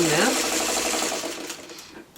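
A sewing machine stitches a quarter-inch seam on a coffee-mug quilt block, a close rapid steady rattle of the needle that runs on and slowly fades.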